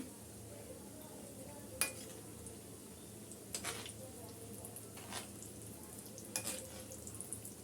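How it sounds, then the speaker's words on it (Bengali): Homemade biscuits frying in hot oil, a faint, steady sizzle with a few sharp clinks and scrapes as they are turned over in the pan. "অপর পাশটা একটু উল্টিয়ে দিচ্ছি আর গোল্ডেন ব্রাউন করে ভেজে নিচ্ছি"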